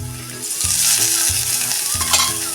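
Chopped onion frying in hot oil with a few curry leaves, a loud steady sizzle with regular scraping stirs of a spatula against the pan, close up and without talk.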